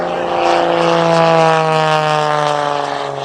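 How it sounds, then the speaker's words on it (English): A propeller aerobatic plane with a roughly 24-foot wingspan roars past low at an airshow, its loud droning engine tone sweeping steadily in pitch as it passes close by. "The wingspan on that aircraft is approximately 24 feet."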